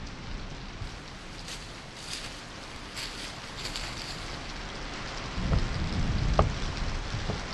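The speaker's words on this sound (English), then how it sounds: "would you like to come in before the rain soaks through your very bones? I find storms such as these terribly unpleasant." Steady heavy rain pours throughout a stormy scene, with a few faint distant thunder rumbles and a louder low rumble building near the end; no voices.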